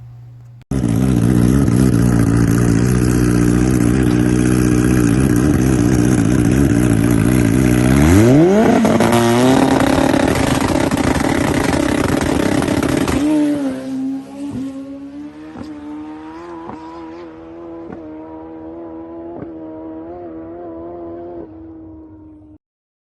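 A motorcycle launching hard at a drag track night on a methanol pass with a new clutch, engine roaring loudly at high revs, climbing sharply through a quick short shift, then fading as it pulls away into the distance.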